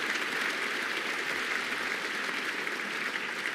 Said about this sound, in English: So could we have a round of applause for Councillor Douglas, who joined UKIP last